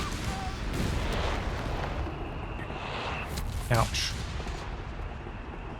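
Artillery counter-barrage in Company of Heroes 3, dense rumbling game battle noise with scattered booms and shell impacts, a sharp brief burst near the end, with a short spoken remark over it.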